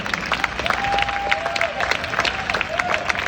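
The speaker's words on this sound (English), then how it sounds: "a huge round of applause for all of our poets here tonight" An evening audience at a poetry reading by MoMA members applauds the poets, steady mixed clapping with some crowd noise throughout, fairly loud and close, with a few faint tonal sounds drifting through.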